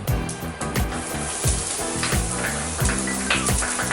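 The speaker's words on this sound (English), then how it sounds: "I'm gonna add a bit of oil again on this one. Drop my garlic in." Garlic drops into hot oil in a pan for a beef lasagna ragu and sizzles loudly and steadily, with a crackling fry that continues throughout.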